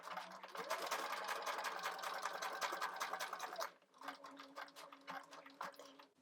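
A sewing machine stitching a seam on a Liberty Jane culotte jumpsuit runs steadily and quietly for several seconds, pauses briefly, then continues at a slightly slower, more uneven pace, with no talk.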